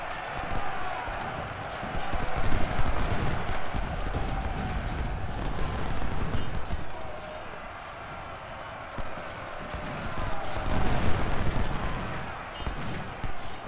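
Massed musket and artillery fire from a Civil War battle in the strategy game Ultimate General: Civil War, a steady, dense wash of distant gunfire and rumbling that swells and fades, with a voice speaking over it.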